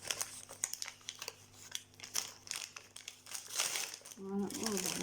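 Wrapping paper crinkles and rustles in quick, uneven bursts as a Christmas package is opened up close, with someone talking over the handling.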